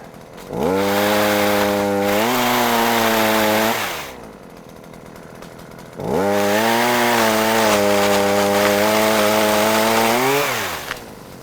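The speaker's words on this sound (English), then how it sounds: "And there you have it, pole chainsaw." A Husqvarna 327PT5S pole chainsaw revs up and cuts wood for about three seconds, drops back to a lower idle, then roars through a second long cut.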